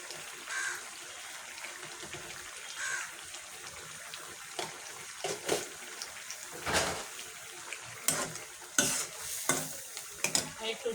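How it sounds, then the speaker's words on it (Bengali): A spoon stirs a pot of fish curry with pumpkin and dried fish, scraping and sloshing in irregular strokes over a soft simmering sizzle, nearby and without speech. "একটু ঝোল মিক্সড করব"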